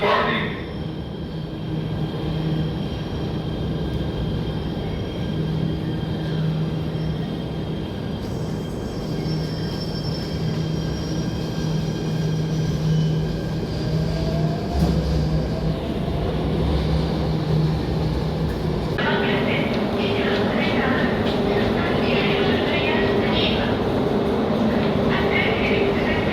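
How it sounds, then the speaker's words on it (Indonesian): A Jakarta MRT train pulls away from the platform with a continuous heavy rumble and a rising electric motor whine that lasts throughout, while a public-address announcement plays over it. "The train bound for Bundaran HI Bank Jakarta at platform 2 is departing."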